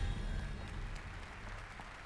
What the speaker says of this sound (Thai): ขอเสียงปรบมือให้กับนักแสดงของเราด้วยนะ